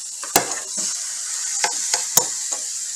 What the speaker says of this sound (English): Spraying a little oil. We'll go ahead and put it in there.